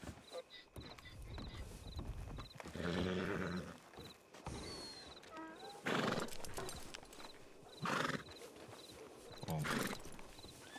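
Many horses neighing and whinnying over clip-clopping hooves in the game Red Dead Redemption roleplay on RedM, repeated loud whinnies rising above a busy, crowded background and some indistinct voices.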